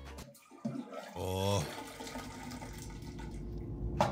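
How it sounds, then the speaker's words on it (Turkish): A broken toilet flushes weakly in a rented house, giving a brief gurgle and then a steady low trickle of water. A person makes a short vocal sound and talks over it. "İsteksiz bir sifon."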